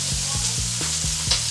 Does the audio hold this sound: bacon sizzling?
yes